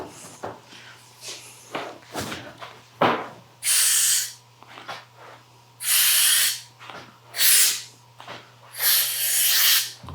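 An aerosol spray paint can hisses in several long bursts of a second or so each, loud and close, alternating with handling noises, footsteps and a low steady hum.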